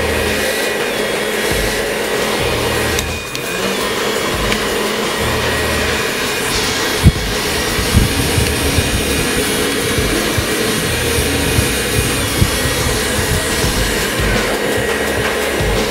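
A hair dryer blows air while a pompadour haircut is styled, a loud, steady, close whoosh that runs unbroken throughout, with a few faint clicks and brushing sounds beneath it.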